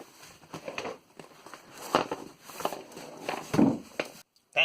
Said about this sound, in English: that's the sound of the loose tokens rattling around in there